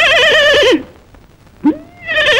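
A man imitates a horse's neigh with a loud, close, wavering whinny, breaks off into near silence, then gives a short rising cry and starts the whinny again.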